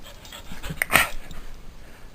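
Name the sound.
dog panting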